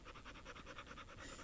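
A dog pants after running, a quick steady rhythm of about ten short, close breaths in a faint, brief burst.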